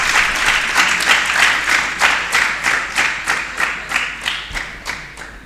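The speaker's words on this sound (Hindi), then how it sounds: "सभी इन प्रतियोगियों के लिए तालियां एक बार।" An audience at a speech competition claps in unison, a loud, rhythmic series of about a dozen evenly spaced beats that continues without a break.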